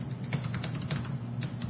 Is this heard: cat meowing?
no